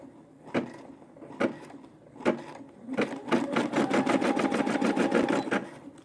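Brother SE600 embroidery machine stitching through a quilt, a few separate clicks and thumps at first, then a loud, steady run of rapid mechanical needle strokes carrying on close by.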